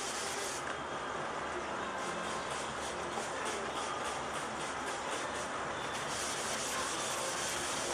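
Wet sanding of painted fender panels on a 1999 Buick Regal LS with 600 grit sandpaper, a steady close rough rubbing that continues alone throughout.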